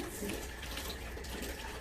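Water rinses through a foot care basin during a nursing skill, a brief, faint, continuous splashing and running sound heard alone.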